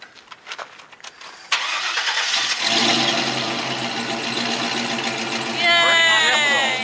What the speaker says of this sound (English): let's see if the vehicle starts